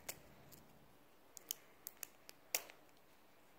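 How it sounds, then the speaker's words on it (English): Scissors struggling to cut open plastic toy packaging, giving a handful of quiet, sharp snipping clicks spaced irregularly over a few seconds against near silence, with no talking. "These scissors can't even open it."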